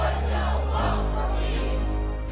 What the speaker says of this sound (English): leading to larger and larger crowds cheering them on in Alabama and Georgia